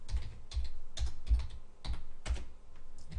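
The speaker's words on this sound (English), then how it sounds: "Type this, type here" Quick bursts of typing on a computer keyboard, close and clear, with clusters of keystrokes in an uneven rhythm and no voices.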